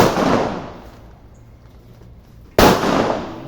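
A firecracker bursts with a sudden sharp, loud crack late in the moment, after a noisy stretch and a quieter lull, and leaves a ringing tail.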